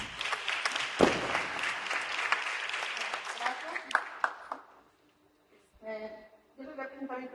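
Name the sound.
applause for Claudia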